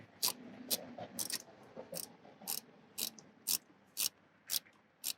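Quick clicking bursts from a ratchet wrench loosening a battery terminal on a 2017 Nissan Pathfinder, about ten short close ratchet strokes in a steady rhythm over faint background noise.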